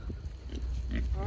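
Pigs grunting on a farm, short low snorts and grunts close by over steady outdoor background noise.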